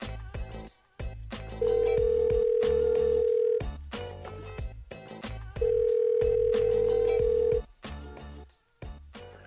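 A telephone dial tone while placing a call, steady tone bursts alternating with pauses, repeated twice, fairly loud and clear with no voices.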